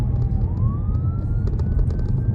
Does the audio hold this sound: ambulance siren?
yes